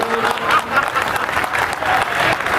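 Steady, dense applause from a large audience at a Hindi comedy poetry recital, filling the whole stretch with even, unbroken clapping and faint crowd murmur.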